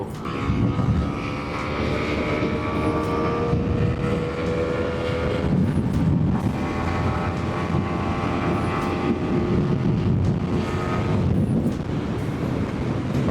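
A remapped Honda Winner X motorcycle engine revs steadily at high RPM, a loud, continuous drone with a rising whine and wind rush lasting the whole stretch.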